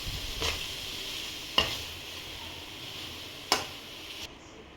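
Idli upma with onions is stirred in a pan: a soft, low sizzle runs throughout, broken by three distinct scraping strokes of the spatula, close and moderately quiet, with no talk.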